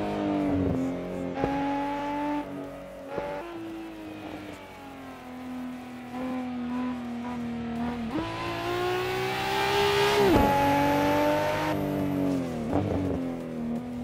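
A Nissan Skyline GT-R R34 lapping a track in Assetto Corsa, its engine revving hard up and down through gear changes, rising to a loud sustained wail before easing off.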